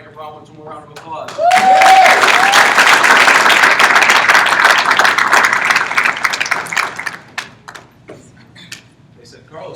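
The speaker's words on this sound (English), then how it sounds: "Give Mike Rollins one more round of applause." An audience bursts into loud applause and cheering that swells quickly, holds dense and sustained for several seconds, then tapers off with scattered claps, at a Vector Marketing sales event.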